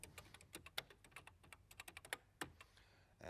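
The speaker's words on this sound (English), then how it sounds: "If I type in Space Shuttle" Typing on a computer keyboard, a quick irregular run of crisp, close key clicks with short pauses between bursts, quiet and alone with no talking.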